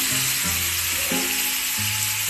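A pork chop frying in olive oil and butter after being flipped for a sear: a loud, steady close sizzle with low tonal hums beneath, heard alone without talk.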